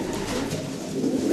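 A racing pigeon coos in low, soft rolling murmurs, close and continuous over a dull room-like background hum.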